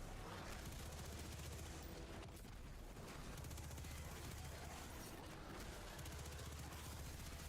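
Rapid submachine gun fire in an online raiding video game, loud dense bursts running almost continuously with brief dips, dominating the mix.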